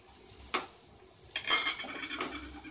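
Spices fried in a pan for chicken arvi curry, with a soft steady sizzle and a few close scraping stirs of a utensil against the pan.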